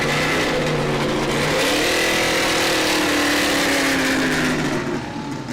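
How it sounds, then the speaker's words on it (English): A 1965 Chevy Corvette race car rolling up to the starting line at a vintage racing event in Arnold, Nebraska, its engine rumbling loud and close, revving and rising in pitch before settling into a steady drone. "That was the sound of Nick Ekberg just simply coming to the starting line."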